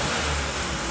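A car engine revving up, a steady broadband mechanical roar that holds loud and close for under a second with no voices.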